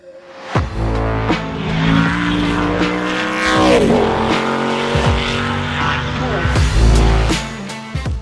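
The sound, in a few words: Pikes Peak Hill Climb race car engine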